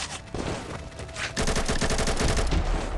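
Loud, rapid bursts of AK rifle fire in the Combat Masters battle royale game, with repeated shots rattling close up and overlapping in a dense fusillade.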